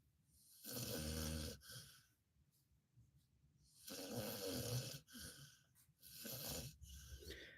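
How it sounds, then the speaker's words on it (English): Heavy, rasping snoring from a child, three long drawn breaths separated by quiet pauses, close and fairly loud. "He sounds like a grown man snoring."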